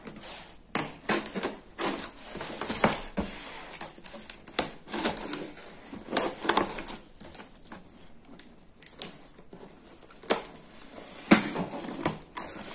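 Unboxing a 19-euro mini hot-air fryer from Aldi: crisp, irregular crinkling and tapping of packaging and cardboard, close and fairly quiet, with sharp clicks scattered throughout and no talking.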